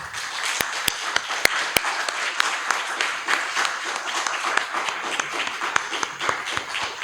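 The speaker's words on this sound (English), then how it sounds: "let's give them a round of applause" Audience applause for candidates at a Howard County Board of Education and congressional election forum, a steady crowd of clapping with a few sharp, close claps standing out through the sustained roar.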